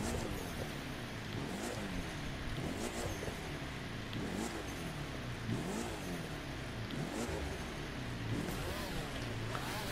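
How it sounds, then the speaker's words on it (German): A car engine with a turbo in a racing video game revs repeatedly, rising and falling in pitch in a regular pattern, moderately quiet and continuous. "Hörst du eigentlich auch, wenn ich Gas gebe? Guck mal. Hörst du diesen Turbo?"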